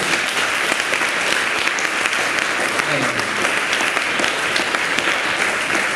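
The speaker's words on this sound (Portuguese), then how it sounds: "Então você pode aplaudir o Senhor por isso" Congregation at a church service claps continuously, a thick, even roar of many hands with a brief faint voice rising underneath midway.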